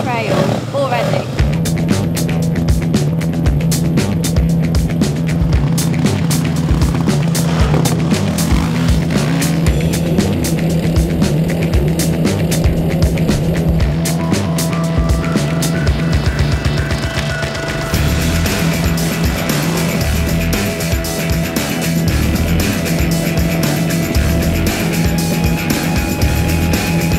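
Motorbikes being ridden by a group heading out toward a trail, engines revving and droning close by in a continuous loud stream, rising and falling with gear changes, while voices talk over them.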